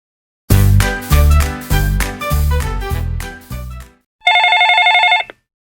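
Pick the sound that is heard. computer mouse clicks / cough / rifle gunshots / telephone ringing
telephone ringing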